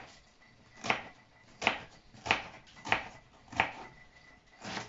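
An onion is diced into small cubes, a knife striking the cutting board in six evenly spaced chops about two-thirds of a second apart, close and alone with no talk.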